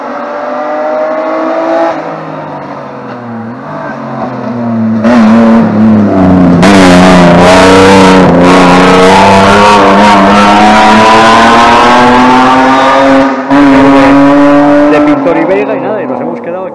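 A rally car, one of the mixed-era entrants on a stage of the Rallye Rías Altas Histórico, approaches with a building engine drone, then blasts past loudly with harsh revving and gear changes before fading, with a commentator talking throughout.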